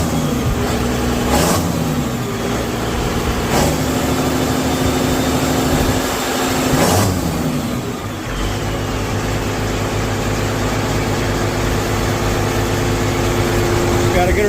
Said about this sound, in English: It's idling real good.